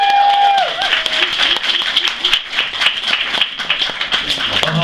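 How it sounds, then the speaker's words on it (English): A live poetry-night audience breaks into loud, sustained applause, dense clapping filling the room with a few cheers and voices mixed in. "round of applause for Will"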